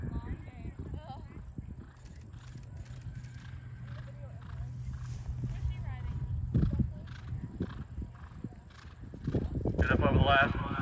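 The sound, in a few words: Holsteiner Irish Sport Horse cross jumping a showjumping course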